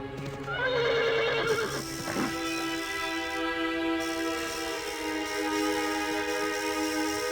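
Horses whinny loudly and close in a Western-themed Desperados game scene, a long neigh rising early, with steady hoofbeats and ambient game sound running underneath throughout.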